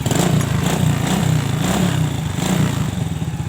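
A motorcycle engine idles just after being started with the electric starter, a steady, close, chugging putter with a slightly uneven, throbbing rhythm and no talk over it.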